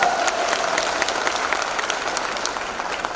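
An audience at a business presentation claps in a continuous, busy patter of many hands, steady and fairly loud, holding at one level through the clip with no speech over it.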